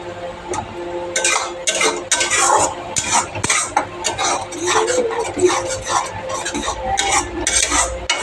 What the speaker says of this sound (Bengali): এবার আমি একটু নেড়ে নেব দেখুন